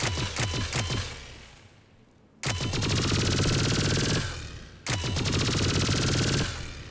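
Full-auto bursts from the Geth Plasma SMG in Mass Effect 3 (Firefight DLC): a few sharp single shots, then two long, loud, rapid-fire streams separated by a short pause, with no talk.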